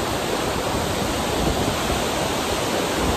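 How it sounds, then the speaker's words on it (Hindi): A large, fast-flowing river in a valley near Kathmandu, Nepal, roars as a steady, dense rush of water, loud and close throughout with no voices. "फ्लो इतना तेज है कि किसी को भी बहाने को तैयार है और पानी इसमें अथाह है।"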